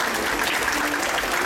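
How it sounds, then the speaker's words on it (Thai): Brief, steady applause from a pageant audience in Pattaya welcoming an award presenter onto the stage, dense and continuous throughout the short moment. "ขอเสียงปรบมือต้อนรับ"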